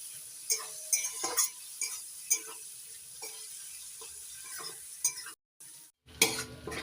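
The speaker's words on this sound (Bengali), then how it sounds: "এবার ভালো করে মিশিয়ে নিচ্ছি।" A spatula stirs turmeric and Kashmiri chili powder in a pan while making fish curry, giving repeated scraping strokes over a steady soft sizzle, with a brief break near the end.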